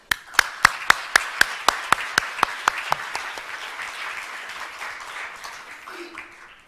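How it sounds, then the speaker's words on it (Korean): About a dozen sharp, evenly spaced claps ring out first, then a broad wash of audience applause at an opening ceremony swells and slowly fades. "감사의 큰 박수 부탁드립니다."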